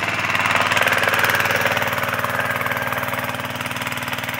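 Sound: Branco engine-driven centrifugal water pump running

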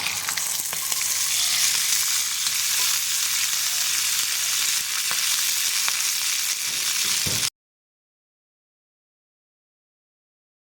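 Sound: green peas roasting in oil on an iron tawa

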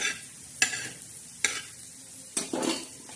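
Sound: dry-roasting whole spices in a pan

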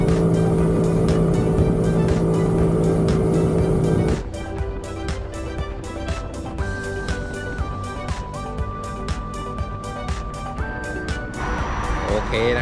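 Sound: Yamaha PG-1 motorcycle riding on the road

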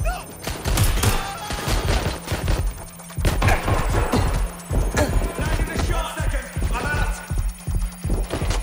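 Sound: gunfire in the video game Watch Dogs Legion

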